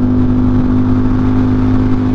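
A Ducati Panigale V4 SP2 engine hums at a steady, loud pitch throughout, with a strong tonal drone and no speech over it.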